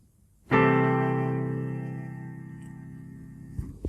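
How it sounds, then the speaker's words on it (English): A major 6th chord in root position is struck once and sustains alone, fading gradually, with a faint tap near the end. "Now this is the sound of a major 6th chord in root position"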